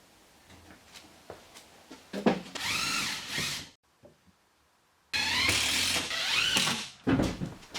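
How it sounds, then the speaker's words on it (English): A power drill drives wafer head screws into wall studs for a garage storage build, with two sustained whirring bursts separated by a short pause and a few light clicks and taps around them. "I screwed it into the studs using wafer head screws so that it grabs really well"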